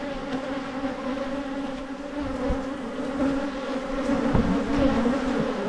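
Honey bees hum steadily around an open top bar hive, a dense close buzzing drone with a few individual bees passing near and occasional soft knocks of hive handling.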